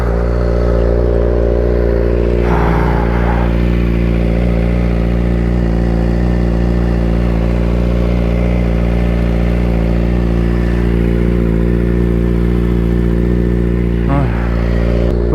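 A car engine drones steadily and loudly at close range while driving, its pitch wavering with mild revving swells throughout, with a brief higher whine near the end.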